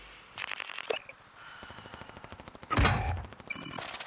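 Rapid video game gunfire in short bursts with a loud crack near the middle, played over faint background game sounds.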